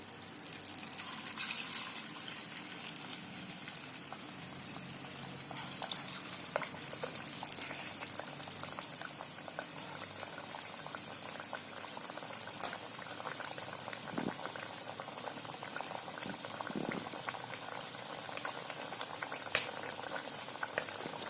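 Rice flour coconut puris deep-frying one at a time in rice bran oil over medium heat, a steady soft sizzle and bubbling that runs throughout with small crackles and pops, no talking.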